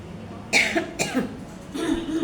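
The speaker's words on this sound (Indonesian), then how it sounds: "kok jadi batuk ya?" Two or three harsh coughs come in quick succession close to the microphone, followed by a brief throat-clearing sound.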